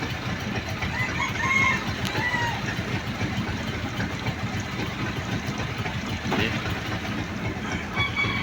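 Bantam chickens crowing and clucking outdoors over a constant noisy background, with a few crows standing out at moderate distance.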